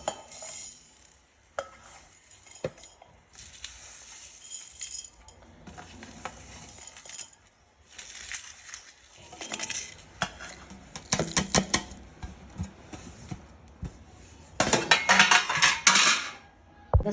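Garlic and spices for masala chitranna go into a steel mixer jar, giving quiet, scattered clinks, taps and rattles in short bursts, with louder clattering near the end and no talking.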